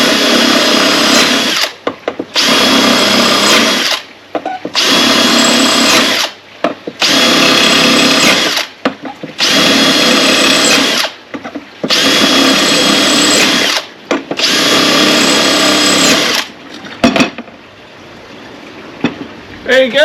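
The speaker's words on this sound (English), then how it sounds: "you can drill your ceramic tiles with them" Power drill bores into ceramic tiles in about eight loud, close bursts of high whining grind, each a second or two long, separated by brief pauses before a quieter tail.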